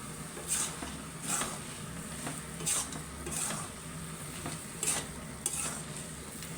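Carrot halwa with added peanuts is stirred in a pan, producing a steady soft sizzle broken by about six scraping strokes of the spoon, each a brief brighter swish at irregular intervals.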